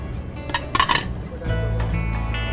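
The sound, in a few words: chopped onion added to olive oil in a pan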